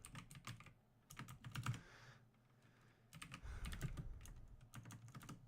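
Someone types at a computer keyboard while building a Docker image in a terminal, a soft, close patter of keystrokes in two bursts with a brief lull between, no speech.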